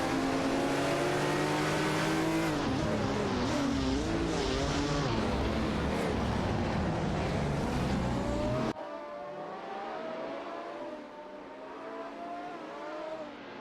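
Race cars including a Renault Alpine and a Porsche 936 in a simulated race, engines whining and revving with rising and falling pitch, loud and sustained, then dropping to a more distant drone.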